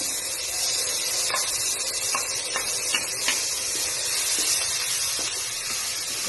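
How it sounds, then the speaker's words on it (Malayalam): Ginger, garlic and green chilli sautéing in a pan: a steady bright sizzle throughout with light scraping and tapping of a spoon, close and even, no speech. "അതേ പാനിൽ തന്നെ ഇഞ്ചി, വെളുത്തുള്ളി, അതേപോലെ പച്ചമുളക് ഇടാണ്."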